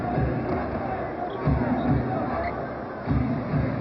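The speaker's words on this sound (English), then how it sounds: "you can hear the rumblings in the crowd" A crowd rumbles at a 2006 NBA game between Houston and Cleveland, a steady murmuring babble filling the arena, with a few low thumps that may be a basketball bouncing on the court.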